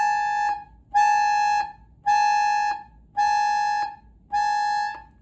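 An accordion imitates an alarm clock: five evenly spaced, sustained reedy beeps about a second apart, each ending in a short click, loud and close with nothing else playing.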